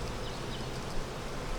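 Honeybees buzz around a double deep ten-frame hive box at an east fence, a faint, steady, diffuse hum of many insects close by, with no voices.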